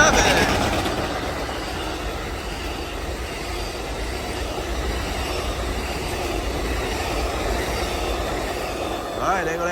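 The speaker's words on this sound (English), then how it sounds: "All right, there go that train on its way to Seattle." Amtrak Coast Starlight train #14, northbound to Seattle with ALC-42 locomotives, passing the Oakland Coliseum station, a loud steady broadband rumble of rolling cars and wheels sustained throughout.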